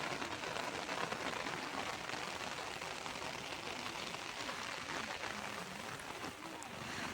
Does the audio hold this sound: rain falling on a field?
yes